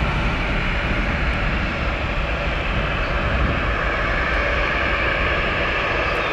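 An airliner taking off at Tampa airport at sunrise, a loud continuous jet engine roar heard close up, broad and steady throughout without breaks.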